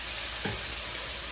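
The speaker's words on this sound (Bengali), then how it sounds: "মশলাটাকে ভালো মতো একটু কষতে হবে।" Spice paste sautéing in a pan for a Bengali labra with mung dal and mixed winter vegetables, a steady soft sizzle with one brief stir or scrape near the middle, no talk.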